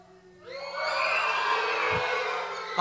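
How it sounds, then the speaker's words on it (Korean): A group of children at a church summer Bible school gathering bursts into loud shouting and cheering that swells quickly and holds steady, many voices together. "이번엔 오른손을 올리면 함성을 지르는 거예요"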